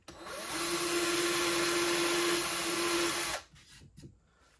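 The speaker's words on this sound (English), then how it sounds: "Take a drill bit and go ahead and drill a hole into the wood." A power drill whirs steadily as it bores into wood for about three seconds, then cuts off, leaving only a few faint knocks.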